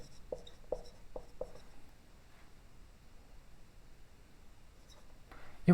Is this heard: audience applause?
no